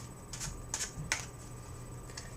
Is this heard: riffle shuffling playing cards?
yes